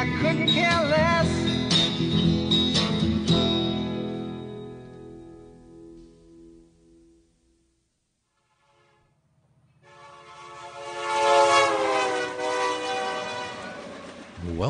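A train sound effect opens a blues radio show: a loud horn and rolling rail noise fade out to near silence, then the horn and rumble return, swelling loud and close.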